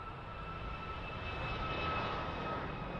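A Ryanair jet bound for Tenerife rolls down the runway at Birmingham Airport, its engines giving a steady broad roar heard from a distance, with no voices over it.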